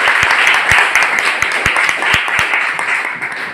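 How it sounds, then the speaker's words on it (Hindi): Audience applause for a speaker at an RCM Business network-marketing event: dense, loud clapping from a crowd, sustained throughout with a few sharp individual claps standing out, tapering slightly at the end. "एक बार शहाबुद्दीन खान सर के लिए ताली सर"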